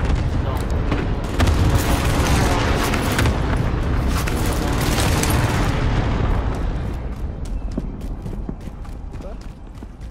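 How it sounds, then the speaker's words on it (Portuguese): Precision airstrike explosions in Call of Duty: Modern Warfare Resurgence, a dense run of heavy, rumbling booms that fade toward the end, with players talking over them. "Ataque aéreo de precisão aliado."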